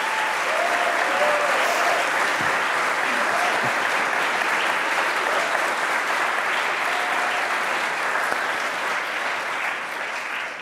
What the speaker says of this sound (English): I will just ask you to applaud them for being great